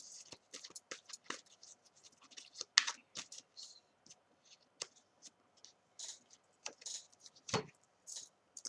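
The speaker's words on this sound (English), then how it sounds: "So you can see me shuffle." Quiet, irregular riffling and soft slaps of a card deck being shuffled up close, with brief pauses between bursts.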